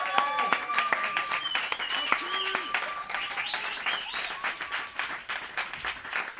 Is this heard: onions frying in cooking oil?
no